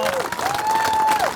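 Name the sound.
audience applauding utility workers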